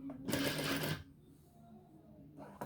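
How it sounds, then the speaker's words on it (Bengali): A sewing machine stitches a small pillow cover in one steady burst that lasts about a second, then cuts out to quiet and starts again briefly at the end. "এখন আমি সেলাই করে নেব।"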